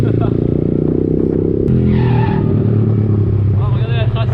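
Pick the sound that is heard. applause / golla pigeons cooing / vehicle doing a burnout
vehicle doing a burnout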